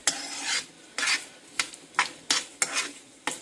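Repeated scraping strokes of a utensil stirring meat frying in a pan, about seven bursts in an uneven rhythm, close and fairly loud, with no talking.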